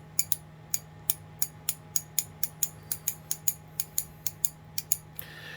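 An Armstrong USA round-head heavy-duty twin-pawl ratchet clicks through about twenty-two sharp, evenly spaced ticks, close and crisp over a low steady hum, with no voices.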